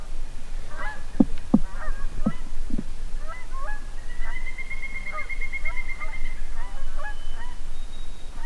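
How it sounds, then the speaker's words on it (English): A flock of Canada geese flying north over a lake, honking repeatedly with a few sharp close calls early and then a cluster of overlapping honks, fairly near over quiet outdoor ambience. "Canada geese, and they just happen to be flying northern direction"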